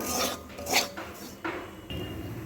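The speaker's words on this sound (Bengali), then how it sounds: "এবারে সুজিটাকেও খুব ভালো করে ভেজে নেব" Dry grainy scraping and clinking of a utensil against a pan as semolina is fried with vegetables for upma, several short strokes in quick succession, close up with no voices.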